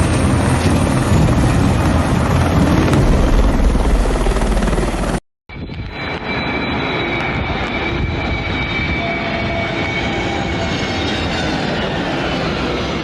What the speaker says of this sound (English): a firefighting helicopter reloading at a swimming pool sent a lifebuoy flying into the air